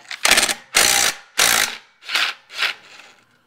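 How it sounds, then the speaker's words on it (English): Five close ratchet bursts tightening a crank bolt on a Mercury flathead engine, each a sharp clicking stroke separated by brief pauses, the last ones slightly softer. "Tighten the crank bolt."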